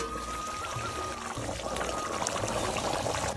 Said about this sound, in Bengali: একটু দুধ দিয়ে দেবো, গরুর দুধ।